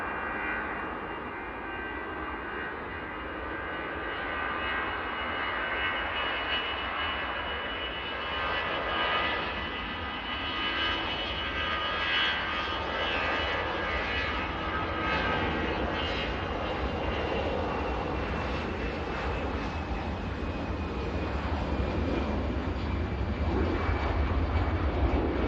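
An easyJet Airbus A320ceo jet departs Manchester Airport for Bilbao, its engine roar steady and sustained, slowly building in loudness and heard alone at a distance.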